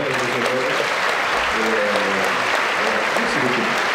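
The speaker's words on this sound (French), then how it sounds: "j'aimerais bien qu'on applaudisse aussi les personnes qui ont collaboré avec moi, les élèves." Audience applauding at a documentary premiere screening, a steady dense wash of clapping filling the hall with no pauses, with a few low voices murmuring underneath.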